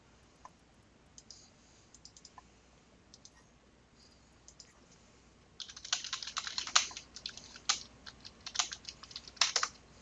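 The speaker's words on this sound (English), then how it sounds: "You like that furious typing?" Furious typing on a computer keyboard: a few scattered clicks at first, then a fast, dense burst of key strikes that keeps going at close range, with no voices.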